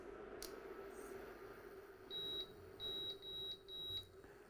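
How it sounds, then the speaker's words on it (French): An induction hob gives a run of short, clear electronic beeps as it is switched on in a quiet kitchen. Several high tones sound in quick succession near the end. "J'allume ma plaque à induction."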